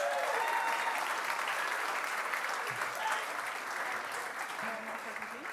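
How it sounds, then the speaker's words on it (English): An audience at the Sharelle McMahon Medal ceremony applauds her, a dense, steady wash of clapping in a large hall that stays level and then eases slightly toward the end. "A big round of applause for Sharelle McMahon."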